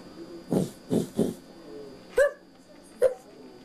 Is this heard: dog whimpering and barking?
yes